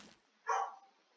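A pet dog indoors gives a single short bark, moderately close and fairly quiet, with no talking around it.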